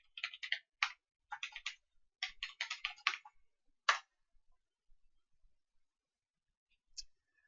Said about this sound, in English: you type in your login credentials here from the previous registration